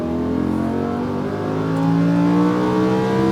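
A Lamborghini Huracán accelerating on a race track in Las Vegas, engine rising steadily in pitch and growing louder through a single gear, loud and close from inside the car, with no talking.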